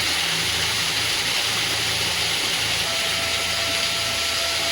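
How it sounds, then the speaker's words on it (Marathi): Water pours and drips from the ceiling inside the Bhairavnath cave in the Jayanti Mata forest, a steady, dense, close rushing-splashing noise that continues evenly throughout with no voices. "वरतून सगळं पाणी टपकतंय"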